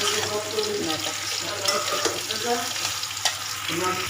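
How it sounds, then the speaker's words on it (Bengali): Pointed gourd and shrimp stir-fry in a pan, with a steady close sizzle and scraping stirs running throughout, plus some clinking and a little water noise in the background. "চলো আমি ভালো করে কষিয়ে নিই একটু"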